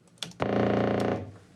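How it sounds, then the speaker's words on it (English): A television picture tube gives a steady electrical buzz with a harsh, slightly distorted edge, holding for about a second after a couple of clicks, then fading out. "And then this is the sound of the picture tube."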